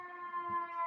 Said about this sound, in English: There's an ambulance just go past.